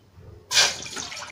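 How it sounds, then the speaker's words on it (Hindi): Water pours from a glass into a teapot for herbal tea, a steady splashing stream that starts suddenly and continues to the end, close and fairly loud. "अब इसके अंदर हम एक गिलास पानी डाल देते हैं"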